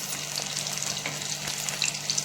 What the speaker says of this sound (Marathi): व्यवस्थित आपले प्रॉन्स तळले जातात.